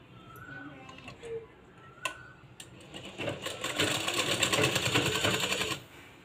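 A sewing machine stitching a blouse starts with a few clicks and taps, then runs in a fast, steady mechanical rattle of rapid stitches for about three seconds before stopping, close and clear.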